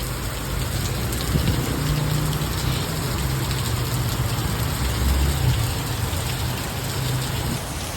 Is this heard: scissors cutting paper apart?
no